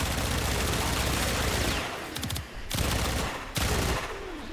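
Dense rapid gunfire in the video game Warframe, sustained bursts of shots with two short pauses, loud and close, no talking.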